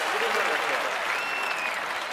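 Stadium crowd applauding after a 2-0 win by the team, a steady wash of clapping and cheering that holds loud throughout, with faint whistles rising above it.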